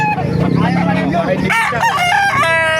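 A loud rooster crows close by at a chicken market in Calumpit, Philippines, its call rising and breaking, with other chickens clucking and a voice murmuring in the background.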